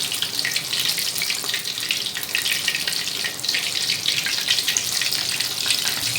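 Fish frying in oil in a kadai makes a loud, continuous crackling hiss with a bright, spattering texture that stays steady from start to finish, close by and without talk.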